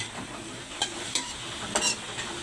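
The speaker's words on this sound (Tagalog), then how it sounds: "Igisa muna natin ito, idol, bago natin ilagay yung munggo." Chopped kamansi (breadnut) sautéing in a pan, a constant sizzle broken by several sharp scraping stirs of a utensil against the pan.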